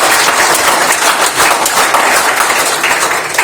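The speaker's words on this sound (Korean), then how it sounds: "건립을 기원하는 큰 박수 한번 주시죠." Loud, dense applause from a forum audience fills a hall at an anniversary event for a planned science hall, with continuous clapping that stays strong throughout.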